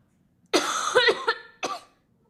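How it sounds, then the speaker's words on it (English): A person coughs up close, a rough burst of several hacking coughs followed by a short final cough, then quiet. "Excuse me for coughing in your ear."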